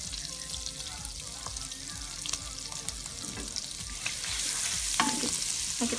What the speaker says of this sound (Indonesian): kita tumis dulu bawang putihnya sampai harum ya